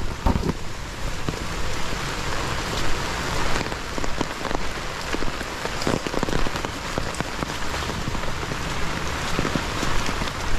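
Heavy rain pours steadily, a dense hiss of drops hitting surfaces throughout, loud and close, with no voices.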